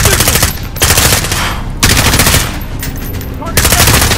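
Loud sustained machine gun fire in the Modern Warfare video game, long rapid bursts broken by brief pauses, close and dominant throughout.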